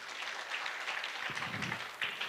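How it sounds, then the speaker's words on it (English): Audience applause at an anniversary celebration for a research and development organization, a steady patter of many hands clapping at moderate distance, filling the room evenly without pause. "We can just clap because of that."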